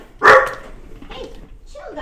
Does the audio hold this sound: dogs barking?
yes